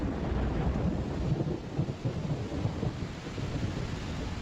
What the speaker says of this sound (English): Kitavi, October brings the short rains.